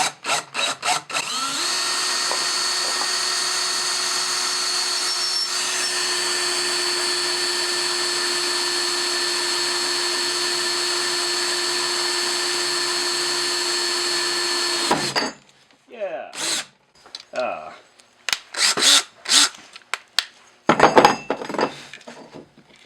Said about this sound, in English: You're going to want to go ahead and drill it, and hope that everything is right.